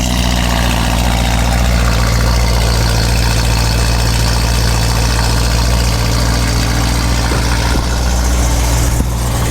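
A BMW E92 M3 with the S65 V8 idles close by, a loud, steady deep grumble with an even low pulse that holds unchanged throughout, no talking over it.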